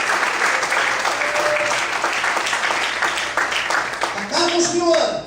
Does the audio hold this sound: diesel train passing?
no